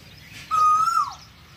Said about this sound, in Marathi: एक इकडं कू आहे कोकिळा, एक इकडं कोकिळे